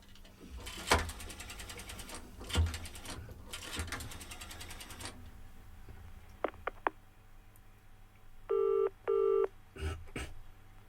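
A telephone being dialed from a phone booth in a German radio drama: mechanical ratcheting and clicking, a few sharp clicks, then two short steady tone bursts, with no voices.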